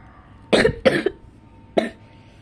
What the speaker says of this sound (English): that was a big cough